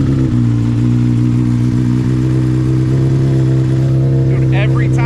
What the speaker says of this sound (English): every time it cranks right up